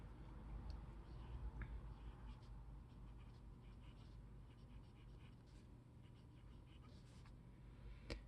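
A very wet Lamy 2000 fountain pen writing on paper, with soft, faint scratching strokes close by under a steady low hum, and a voice speaking at times.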